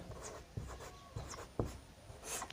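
A pen scratches on paper in a few short, quiet strokes with brief pauses between them, close up and with no speech.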